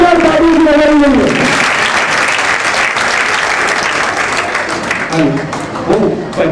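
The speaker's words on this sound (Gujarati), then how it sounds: "એકવાર બધા કલાકારોને જોરદાર તાળીઓથી વધાવી દઈએ." After a stage performance, an audience greets the cast with strong applause, a loud, dense wash of clapping from a crowd that swells after a speaking voice and then gradually fades near the end.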